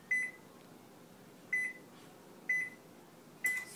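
Microwave-style oven control panel beeping as the preheat temperature is set, four short, clear electronic beeps spaced over a few seconds in a quiet kitchen with no talking.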